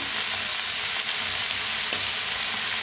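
Potatoes roasting in a pan with salt and peanuts, a dense, steady hiss of frying with faint scrapes, loud and close throughout.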